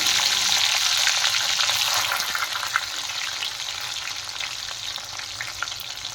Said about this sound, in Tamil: பத்து பதினஞ்சு பல் பூண்டு பொடியாக நறுக்கி வச்சுருக்கு அதையும் சேர்த்துக்கலாம்